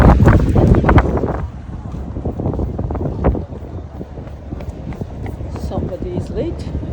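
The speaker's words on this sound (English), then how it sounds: "We take another boat to go to Digue," Boat ride to La Digue island in the Seychelles, with loud engine rumble and wind buffeting the microphone, steady and close, with people talking over the noise.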